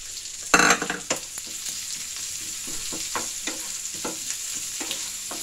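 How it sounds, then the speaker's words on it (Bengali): Chopped onions hit hot oil with garam masala in a pan, opening with a sharp burst of sizzle and a clatter, then settling into a softer steady frying hiss broken by repeated spatula scrapes and stirs, close by with no talking. "পেঁয়াজটা একটু ভাজা হবে হালকা তারপর আদা রসুন দেবো"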